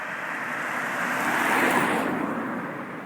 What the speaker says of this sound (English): There's a car coming, so I'll let this pass.